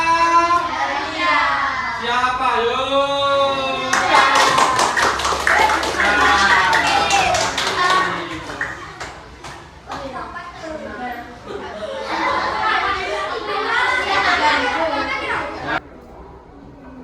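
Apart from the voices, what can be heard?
classroom children clapping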